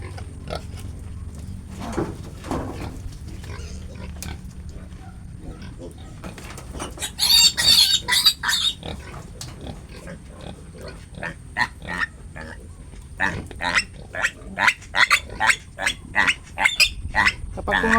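Piglets on a farm squeal and struggle while being injected, sharp high-pitched squeals coming in bursts over a steady low background, loud and close, with clucking fowl audible nearby.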